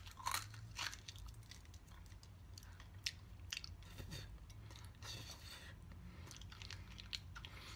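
Someone eating crunchy homemade Gojina muesli, chewing steadily up close with repeated crisp crunches and bites over several seconds, fairly quiet and without talk.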